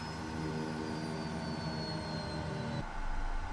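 A Kodiak 100 turboprop engine winds down in a flight simulator game, a steady whining drone with a high tone that slowly falls in pitch before the sound changes abruptly near the end.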